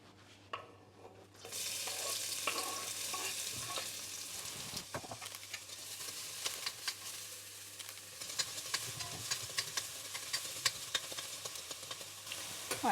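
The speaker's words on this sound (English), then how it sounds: "I decided that I will use the ghee. Okay, so let's put in our onions" Onions sauteing in ghee in a pan for veggie fried rice: a steady close sizzle begins after a brief quiet start and continues throughout, with occasional stirring clicks and scrapes, no talking.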